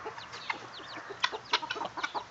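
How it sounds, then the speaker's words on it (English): A quail hen clucking softly as she teaches her chicks to eat, a run of quick, close chirping clucks and peeps that grows busier and sharper toward the end. "she'll cluck a little bit"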